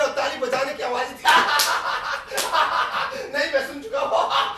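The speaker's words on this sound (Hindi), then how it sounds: "तड़ाकदम कुछ और नहीं, जांघे पीटने और ताली बजाने की आवाज थी" Hands slap thighs and clap in bursts on a theatre stage during a play, sharp smacks repeating with laughter and chatter from performers mixed in throughout.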